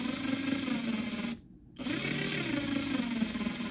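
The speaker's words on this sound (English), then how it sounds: "Let me show you a Makita brushless drill real quick." A Makita brushless drill motor runs steadily with a smooth, even hum and no high whine, pausing briefly for a short silence before spinning up again, loud and close.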